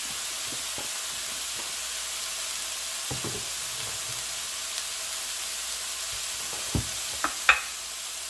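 Garlic asparagus with pepper sauteing in a pan, a soft steady sizzle under scattered spatula scrapes and taps that grow sharper toward the end, near and without talk.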